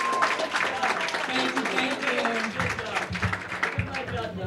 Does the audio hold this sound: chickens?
no